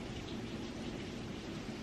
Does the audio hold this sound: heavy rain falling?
yes